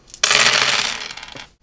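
A handful of dice is rolled onto a table in a Chainmail tabletop wargame, making one loud, close clattering rattle that settles and dies away after about a second.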